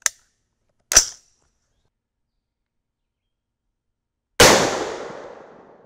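A single loud shot from an AR-10 rifle in 6.5 Creedmoor with a 20-inch Ballistic Advantage Premium Series barrel, a sharp blast with a long fading echo, preceded by two faint clicks.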